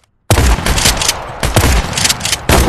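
Shotgun fire in the Tactical Assault VR game, a rapid string of loud, sharp blasts following each other closely after a brief silence, close and dominant with no talk.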